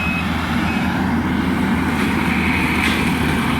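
A skid steer running a brush hog mower works nearby during storm cleanup, its engine droning loud and steady with a throbbing low rumble and no pauses.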